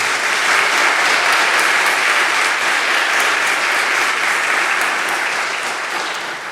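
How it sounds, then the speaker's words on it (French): A church congregation breaks into sustained, loud applause, dense steady clapping that fills the space for several seconds and fades slightly at the end. "Une bonne main d'applaudissements pour Lucien"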